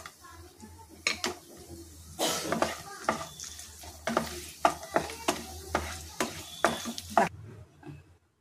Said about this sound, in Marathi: तेल गरम झालेलं आहे। आता आपण कारलं फ्राय करून घेऊया।